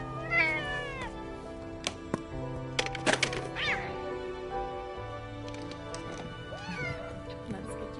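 A cat meows several times in a drawn-out, wavering way, with a few sharp knocks and rustles in between and a voice briefly heard nearby.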